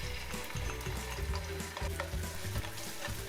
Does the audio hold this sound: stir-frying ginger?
yes